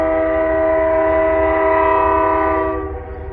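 A BNSF freight train on a North Dakota line sounds its horn in a long, loud, steady chord that holds for about three seconds, then begins to fade, with low rumble underneath.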